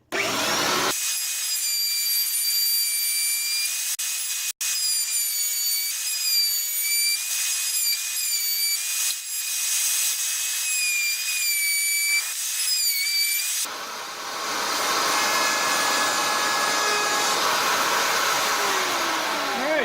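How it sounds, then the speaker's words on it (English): A loud, continuous router whine cuts into wood while building a bowl stand, with high-pitched tonal bands for about 13 seconds before shifting to a rougher, broadband grinding roar that carries on to the end. "That's all the routering we're going to do."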